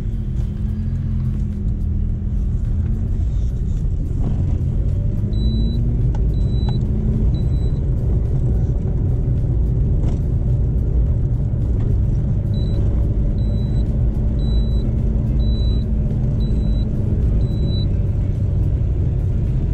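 Deep, continuous engine and exhaust rumble from a modified Maruti Suzuki 800 on the move, heard up close for the whole stretch, with a series of short high beeps recurring at intervals.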